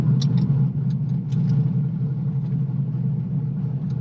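A Corvette C6 engine idles steadily with a deep, even rumble and a few faint clicks on top, close by and without talk.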